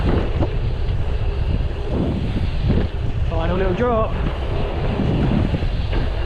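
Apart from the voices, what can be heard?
wind blowing on microphone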